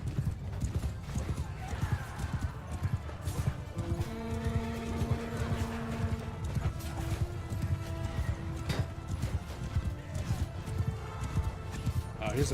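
Horses clip-clopping at a gallop in the Mount & Blade 2 Bannerlord battle game, steady hoofbeats with an occasional whinny amid busy battle noise and a tonal horn-like sound, continuous throughout.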